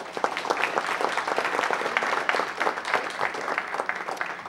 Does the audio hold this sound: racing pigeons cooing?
no